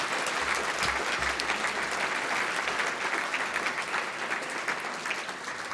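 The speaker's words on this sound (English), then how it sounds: "Let's have another round of applause for Ayanna Mathis." An audience at a literary event breaks into steady, full applause that holds for several seconds, dense and even with slight tapering near the end.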